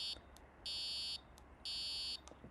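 A BBC micro:bit pet program plays its feeding sound, two harsh, high buzzing tones about half a second each, separated by short blips. The sound is fairly quiet and nobody talks over it.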